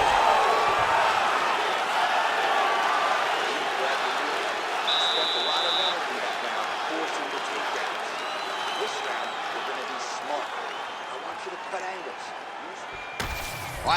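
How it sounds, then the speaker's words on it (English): Video game arena crowd at a UFC 5 mixed martial arts bout cheering steadily and loudly throughout, a continuous roar of noise with a brief buzzer-like tone partway through. "the crowd is loving it. The crowd's going crazy"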